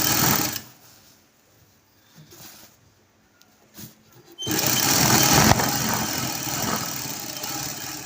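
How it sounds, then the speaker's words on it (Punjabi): Sewing machine stitching the pieces of a salwar together, a short burst at the start, then a quiet pause with small handling sounds, then a steady, loud run of stitching to the end. "ਹੁਣ ਆਪਾਂ ਸਲਵਾਰ ਦੇ ਕੁੰਦਿਆਂ ਤੇ ਸਲਾਈ ਲਗਾਵਾਂਗੇ"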